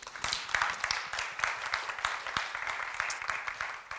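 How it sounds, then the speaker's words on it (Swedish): Audience applause at a Swedish tech conference panel session, a steady crackle of many hands clapping close by that keeps going for the whole stretch without fading. "En till applåd."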